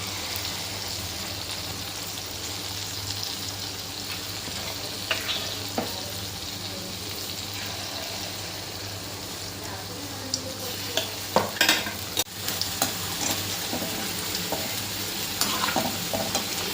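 Gulgule, sweet fritters of batter, fry in hot oil with a steady, dense sizzle throughout, broken by a few sharper crackles and pops.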